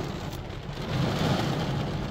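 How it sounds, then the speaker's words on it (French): Heavy evening rain pours down at a festival grounds in Richmond, Quebec, a dense steady hiss that swells slightly louder midway, with no voices. "mais grosse pluie."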